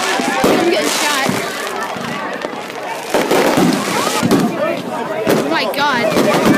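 Fireworks at a July celebration burst in rapid, crackling volleys close by, loud sharp pops and booms overlapping with excited shouting voices.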